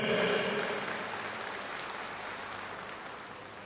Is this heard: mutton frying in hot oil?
no